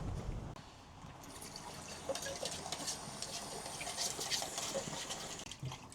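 A camping pot scrubbed by hand under very hot running water to clear out mincemeat, a steady close trickle and splash of water with faint scraping, continuous throughout with no talk.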